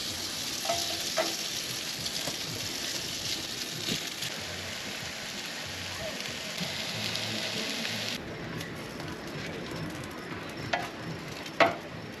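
Breadcrumb and egg mixture sizzles steadily in a pan at a beachfront campsite, a continuous crackling hiss that stops abruptly partway through, followed by quieter ambience with a couple of brief clicks.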